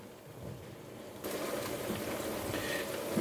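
Cooking water poured into a pan of simmering cherry tomato sauce for a prawn and oregano spaghetti, a steady close liquid gush starting partway through, alone without talk.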